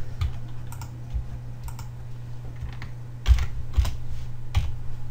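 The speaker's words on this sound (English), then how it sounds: "I'm just going to type in" Keys on a computer keyboard are tapped in short, irregular bursts, close and fairly quiet over a low electrical hum, with a few sharper clacks toward the end.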